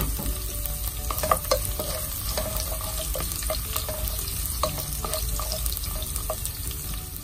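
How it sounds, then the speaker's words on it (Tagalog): Garlic sizzles steadily in a pan alongside cooked longganisa sausage, with crackling oil and occasional scraping stirs, close and continuous, no voices. "Luto na yung longganisa, lagay natin yung bawang."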